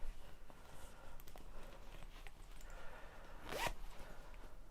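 A zip on a handmade dual-pocket pouch bag, its quick rasping pull coming near the end after faint handling rustles in a quiet room.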